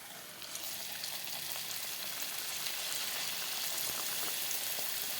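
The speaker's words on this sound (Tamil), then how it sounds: "இப்போ நம்ம வந்து ஒவ்வொரு பூரியாக போட்டுக்க போகிறோம்" Steady, dense crackling sizzle of moong dal puris frying in hot oil, close and continuous throughout with no voices.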